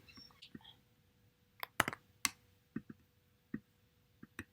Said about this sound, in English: I can also hit Control and the letter G on my keyboard.